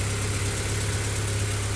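A Honda Accord with a G22B2 engine runs at a steady idle on its first start after a spun-bearing repair and new crankshaft, with a constant low rumble and slight vibration, close and even, with no talking.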